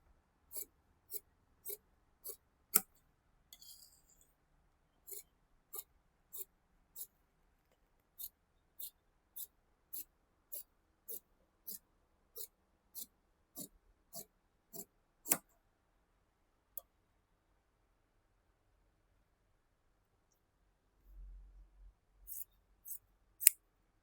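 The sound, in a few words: scissors cutting pant fabric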